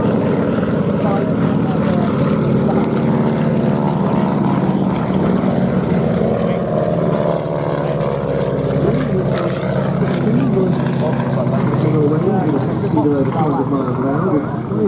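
A vintage propeller aircraft with retractable undercarriage drones loudly at the Duxford air show, a steady engine roar that shifts in pitch as it passes, while a commentator talks over it.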